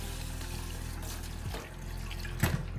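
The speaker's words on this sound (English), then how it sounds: "Just gonna open this and give it a quick rinse." A coarse foam sponge from an Aquael HyperMax 4500 canister filter is rinsed under running water, producing a steady near splashing and trickling flow with a brief louder gush near the end.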